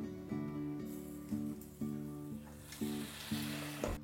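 Cheese sandwich sizzling in a croque-monsieur sandwich maker, a steady soft crackle with gentle rhythmic clicks and bumps every half second or so, close and quiet, no voices.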